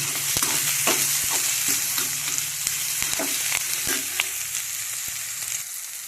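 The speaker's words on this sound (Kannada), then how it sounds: "ಕೈ ಆಡಿಸ್ಕೊತಾನೆ ಹುರಿಬೇಕು" Ridge gourd being stirred and fried in oil in a pan, a steady close sizzle with repeated scraping and clinking taps of the spoon against the pan.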